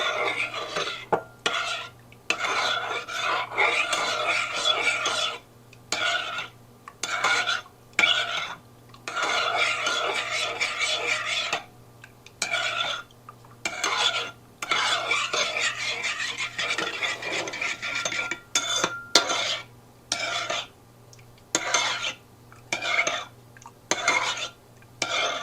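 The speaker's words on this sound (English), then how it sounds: "we're going to get 3 tablespoons of this boiling water, and this is going to dissolve the gelatin really nicely. And we're going to give that a stir." Spoon stirring gelatin dissolving in a small amount of boiling water in a bowl, a rapid run of scraping, clinking strokes in uneven bursts with short pauses, close and fairly quiet, no talk.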